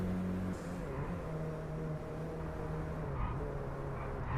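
In the DRIVECLUB racing game, an Audi A1's engine hums as a steady low drone with a slight dip in pitch partway through, running continuously at moderate level with no talking.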